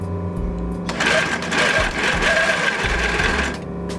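Sewing machine running a continuous zigzag stitch over fishing line on fabric for tutu ruffles, a loud, close, steady mechanical whir for about three seconds after a few short initial stitches.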